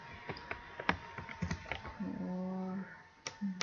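Keystrokes typed on a computer keyboard while a command is entered, a quick irregular run of close, light clicks, with a short steady hum partway through.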